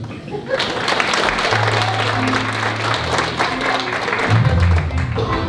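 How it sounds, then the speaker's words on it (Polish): A hall audience at an accordion concert in Puszcza Mariańska applauds Izabela Porona, with dense, steady clapping throughout. "także oklaski dla pani"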